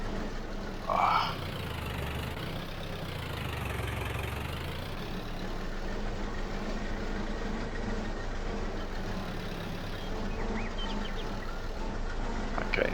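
Tractor engine in Farming Simulator 22 labouring under a heavy load, a steady low, rumbling drone that holds loud and continuous throughout with slight swells, alone without talk.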